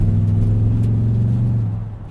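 A pickup truck's exhaust heard through its lowered rear window, a deep steady rumble held close and loud, easing off slightly at the end, with no talk. The truck is either a 2020 Nissan Titan Pro-4X or a Toyota Tundra TRD Pro.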